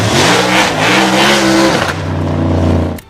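A race car at the Le Mans 24 Hours roars loudly up through the gears, a rising engine note that breaks into a shift and climbs again, close and dominant before cutting off abruptly.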